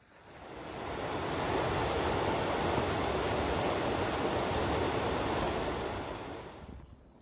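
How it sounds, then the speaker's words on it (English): A creek or river on the Pacific Crest Trail rushes in a steady broadband roar that swells in and holds, with some wind across the microphone and no talking. "We need to cross this creek or river."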